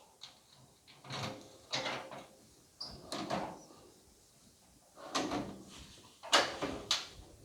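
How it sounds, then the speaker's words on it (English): A toolcart door is worked open in a series of short metallic clunks and slides, several separate bursts spread across the stretch with quiet pauses between them. "The door's open."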